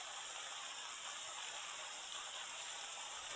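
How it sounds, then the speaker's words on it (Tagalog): Heavy rain pours steadily on a rural farm with rice paddies and a nipa hut, a dense, even hiss holding at constant loudness throughout, with no voices. "ang lakas ng ulan guys."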